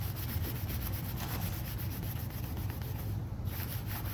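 Scrubbing 156 years of grime off an old clock case makes a steady, close rubbing sound that runs without a break and stays at an even level, with no talk.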